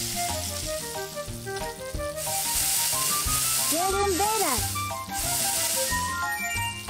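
Meat and onions fry in the Cooking Mama cooking game on the Wii, a bright continuous sizzle under cheerful game music with a rising and falling tonal chime in the middle.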